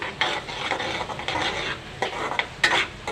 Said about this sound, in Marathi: आणि ते छानपैकी लालूस करा मीडियम गॅसवर चांगला त्याला भाजावं